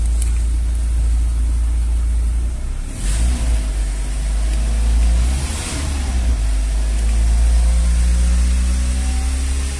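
A car engine held at steady raised revs by a wooden block wedged on the accelerator pedal during an engine flush treatment, a loud continuous drone that swells slightly midway.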